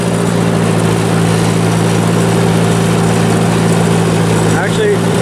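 A tractor engine drones steadily and loudly nearby while brush hogging on a homestead, a continuous low rumble with a faint brief squeak near the end.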